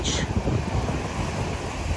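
Steady beach surf with waves washing at the shore, blended with heavy wind buffeting the microphone, loud and continuous without a break.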